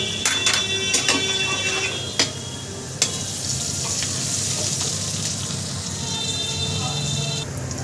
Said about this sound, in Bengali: আমি আলাদা আলাদা করে ভেজে নিচ্ছি